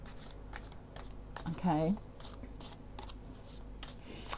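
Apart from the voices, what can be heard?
shuffling a deck of tarot cards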